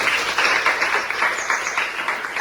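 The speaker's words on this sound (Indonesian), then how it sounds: "kini saatnya baru kita sama-sama tepuk tangan untuk seluruh pasangan calon presiden yang" Audience applause for presidential candidates at a mock election debate, a steady wash of many hands clapping throughout, fairly loud and even, with no voices over it.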